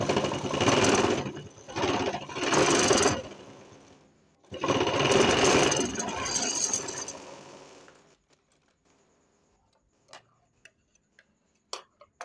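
A household sewing machine stitching thick fabric, with close loud mechanical bursts of rapid stitching for about eight seconds, broken by a short pause, then silence with a few faint clicks.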